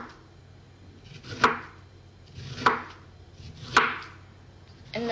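A knife cuts dragon fruit into squares on a board with four crisp, evenly spaced chops about a second apart, close and clear with no talking.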